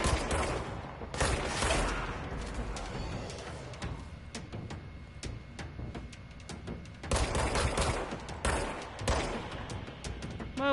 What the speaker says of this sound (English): Oh, I can shoot their windows.